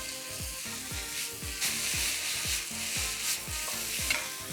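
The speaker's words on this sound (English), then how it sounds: "I love tossing my wok" Seafood sticks are tossed in a hot wok with a regular, rhythmic run of clanks as the pan is flipped, under a constant bright sizzle of frying.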